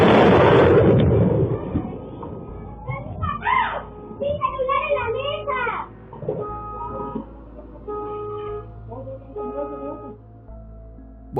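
A nearby lightning strike sets off a sudden loud thunder crack that rumbles and fades within a second, followed by excited children's voices and shouting as a family scrambles for cover.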